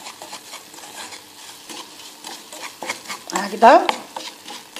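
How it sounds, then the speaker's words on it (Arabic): Semolina stirred in a pan as it toasts for a béchamel, a steady close scraping and rustling with a brief louder scrape near the end; a voice speaks softly over it. "مع الخلط المستمر، اذا كما راكم تشوفوا راني حمصت السميد تاعي مليح"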